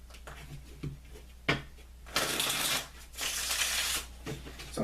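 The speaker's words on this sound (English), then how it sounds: "let's just jump right in now and pick up the cards, and we're going to shuffle them." A deck of tarot cards being shuffled during a reading, giving soft riffling bursts and brief taps, alone and fairly close.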